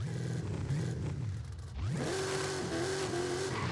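A powerful big-engined car in the video game Forza Horizon 5 revs and drones steadily, pitch dipping then climbing as it accelerates, with a faint tire squeal.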